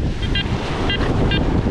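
Ocean waves washing over a beach, a steady broadband wash of surf with wind buffeting the microphone throughout, while a metal detector gives several faint short tonal beeps on top.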